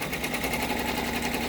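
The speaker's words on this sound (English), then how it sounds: "So now I'm going to go ahead and I'm going to start to stitch this out." An embroidery machine stitches the underlay beneath a design on an iron-on piece, a steady close mechanical hum with a fast, even needle rhythm running without a break.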